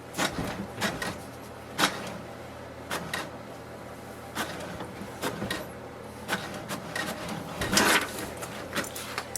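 An HP DeskJet 2640 inkjet printer working through a page, giving repeated short clicks and clacks of its mechanism at irregular intervals over a low steady hum, fairly quiet and with no talk.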